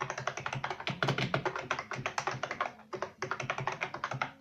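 Rapid continuous typing on a ThunderX3 TK40 membrane keyboard gives soft, muffled keystroke taps in a dense, fast rhythm, recorded close with no voices.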